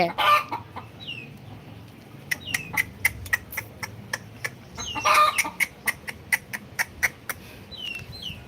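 Native country chickens cluck and call close by in short repeated bursts, with a few sharper squawks over a steady outdoor background.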